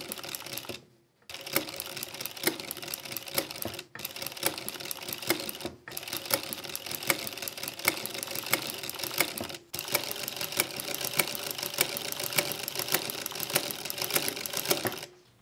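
An industrial G900 sewing machine fitted with a ruffler presser foot stitches fabric in long, rapid, loud mechanical runs, stopping briefly four times before resuming, with no talking.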